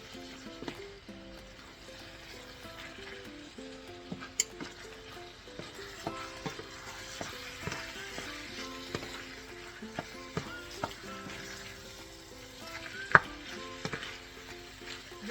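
Ground beef frying in a pan, a steady close sizzle with bursts of spitting fat and occasional scrapes and clinks of a utensil stirring the meat, no voices.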